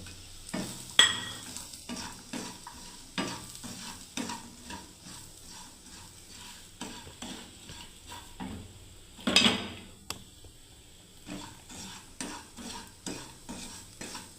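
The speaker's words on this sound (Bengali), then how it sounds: "এবার ভাজতে থাকবো ভালোভাবে দেখুন সুজিটাকে।" Semolina (suji) stirred and fried in a pan for spicy suji, with repeated scraping strokes of a spoon against the metal and a faint sizzle underneath, steady and close, with no talking.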